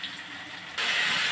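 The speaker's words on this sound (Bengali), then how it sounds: "এবার বেগুন আর টমেটোটাকে ভাজবো।" Eggplant and tomato frying in a pan with turmeric, coriander, cumin, salt and a splash of water for a Bengali bhetki fish curry, a hiss that suddenly jumps louder partway through.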